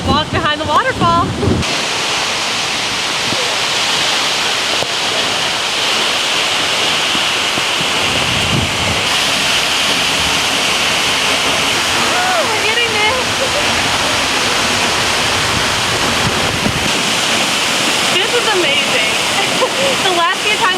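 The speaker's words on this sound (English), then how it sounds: "go attempt to walk behind the waterfall" Waterfall on Iceland's south coast roaring continuously nearby, a dense rushing wash of falling water with wind buffeting the microphone and voices talking faintly beneath.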